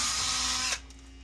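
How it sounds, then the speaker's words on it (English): A power drill with a 1/4-inch bit bores through a metal furnace exhaust pipe, giving a loud, close, high whine that cuts off sharply after under a second and leaves a quieter steady hum. "going to drill a hole in the exhaust pipe"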